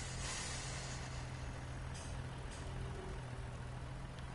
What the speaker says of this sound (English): I'm glad that they've got like the brake sounds.